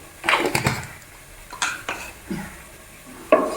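Spoon stirring pepper powder into food in a metal pan, heard as scattered close scrapes and clinks of utensil against the pan with a faint sizzle underneath.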